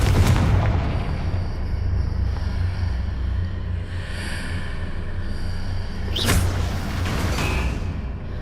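A Confringo blasting spell in Hogwarts Legacy, heard as a loud booming blast at the start with a rumbling tail, a sustained low roar underneath, and a second sharp crackling burst later on.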